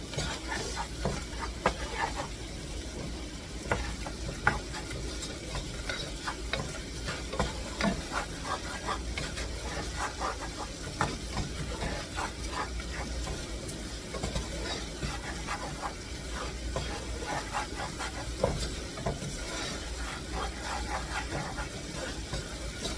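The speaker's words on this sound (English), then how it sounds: "I'm going to stir that around for a while" Flour is stirred in a pan for scalloped potatoes with ham and cheese, a soft continuous scraping and faint sizzle with light utensil taps, close but quiet.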